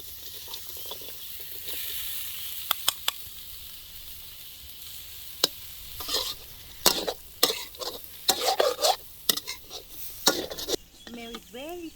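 Onion frying in a pan for Thai prawn fried rice: a steady close sizzle runs throughout, broken by sharp spatula scrapes and metal clanks that grow busier toward the end.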